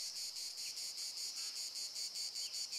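Cicada song fills a deep forest, a steady, piercing high buzz pulsing in a regular rhythm, continuous and alone with no voices.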